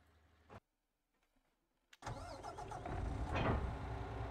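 Vehicle engine in Farming Simulator 22 starting up and driving off, a short mechanical sound, a near-silent gap, then an engine that cuts in and swells into a steady mid-pitched run.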